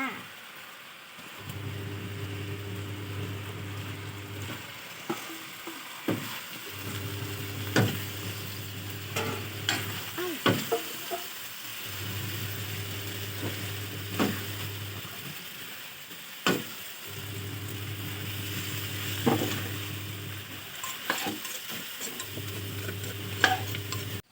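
Mixed vegetables are stir-fried in a pan with fish sauce, giving a continuous sizzle with a rhythmic scraping stir that repeats in steady cycles of a few seconds each, close and moderately loud.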